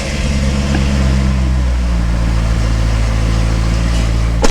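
A Corvette C6 engine runs steadily and loudly throughout, a deep low rumble with a constant idle-like drone, close to the microphone and with no talk over it.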